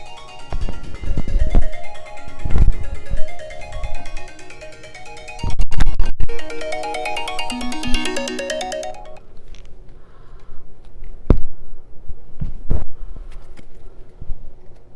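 A phone ringtone plays loudly as a repeating melodic tune for several seconds and then cuts off, leaving scattered knocks and handling noises in a quiet room.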